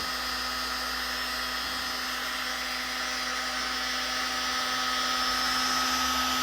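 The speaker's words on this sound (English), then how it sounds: "So I use heat gun on everything I do." A heat gun warms an aircraft aluminum ferrule on a 3 wood golf club, giving a steady, close blower whir with a constant high whine and no pauses.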